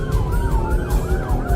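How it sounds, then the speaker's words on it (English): Wailing emergency siren of an ambulance caught on a police dashcam, its rising and falling sweeps loud and close over a steady low road rumble, with no talk. "And that's the ambulance right there."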